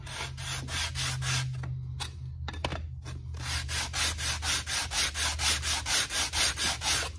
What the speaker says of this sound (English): And then you begin sanding.